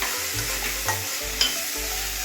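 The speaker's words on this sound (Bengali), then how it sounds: "এবারে আদা, পেঁয়াজ, রসুন দিয়ে দিলাম।" Ginger, onion and garlic frying in hot oil in a pan for hilsa biryani, a loud continuous close sizzle with a few brief clinks of a spoon, no voices.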